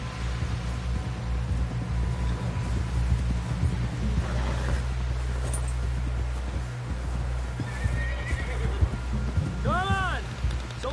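A horse gallops with continuous rapid hoofbeats in Red Dead Redemption 2, then neighs loudly near the end, over a steady low rumble of wind.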